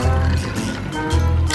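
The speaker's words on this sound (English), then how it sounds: "Pour the egg that we beat before." A steady sizzle of beaten egg poured into an oiled hot pan, with soft low bubbling and spattering that stays fairly even throughout.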